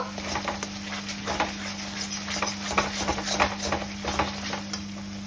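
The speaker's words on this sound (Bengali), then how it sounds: "ছানাটা দিয়েও একটু কষিয়ে নেব।" Chhana sautéing in a spice masala for a raw-banana kofta curry, with a soft sizzle under repeated scraping and tapping of a spoon stirring the pan, plus a steady low hum behind.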